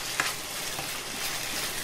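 Food sizzles and fries steadily in a pan during home cooking for a group of guests, a constant crackling hiss with small spatters, close and fairly loud with no talking.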